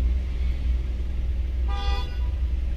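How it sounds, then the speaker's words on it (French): A single short car horn toot sounds in traffic over a steady rumble of road and engine noise, clear and fairly close, with no talking. "Pourquoi tu klaxonnes, cocotte?"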